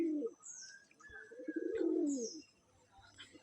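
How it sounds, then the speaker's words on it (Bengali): Domestic pigeons cooing in a loft, soft repeated low coos close by with a few higher chirps and calls mixed in, fairly quiet with no talking. "আর এই হচ্ছে সব পায়রাগুলো।"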